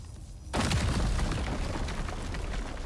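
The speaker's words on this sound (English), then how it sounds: "I want to see a huge explosion." A loud explosion in the survival video game Icarus bursts in abruptly after a quiet moment, then rumbles on as a sustained heavy roar with crackling debris.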